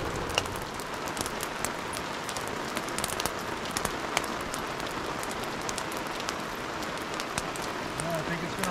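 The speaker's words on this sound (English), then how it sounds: "It started about 2 o'clock last night. Been raining ever since." Steady rain falls at a riverside camp near the headwaters of the Yellowstone River, a dense continuous patter with scattered louder drops, close and unbroken throughout.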